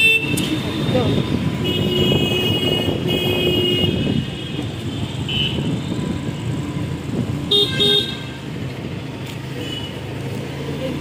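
Horn tones sound at Asansol railway station, several sustained blasts over a busy, noisy platform crowd and traffic bustle, fairly near and loud.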